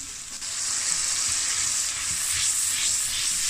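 Tomatoes and masala fry in a pan for a saag dish, giving a steady, dense sizzling hiss that holds evenly throughout at moderate loudness, with no voices.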